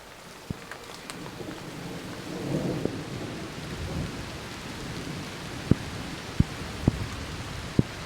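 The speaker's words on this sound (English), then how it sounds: "I think it's raining over there." Thunder rumbles low in the distance during a rainstorm near a cabin under construction, with steady soft rain and a few sharp drips or taps close by, no talking.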